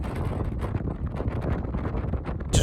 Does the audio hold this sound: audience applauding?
no